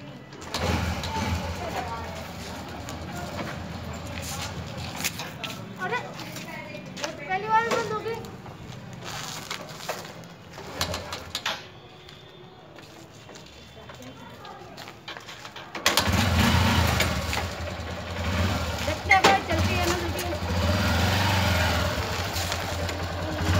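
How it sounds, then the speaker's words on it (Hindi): Motorbike engine started and revving, an uneven puttering and roaring that cuts in and out, then runs louder and steadier near the end, with people talking over it throughout. "अभी देखो हम बाइक चलाते हैं देखो चलती है क्या ना चलती"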